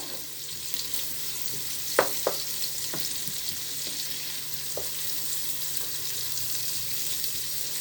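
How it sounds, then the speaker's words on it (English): Onions fry in oil in a pan for a sausage stew, giving a steady, even sizzle and hiss throughout, with a few faint clicks of stirring. "our onions is really starting to fry nicely in our oil"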